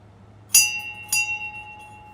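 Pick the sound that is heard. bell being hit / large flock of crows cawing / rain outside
bell being hit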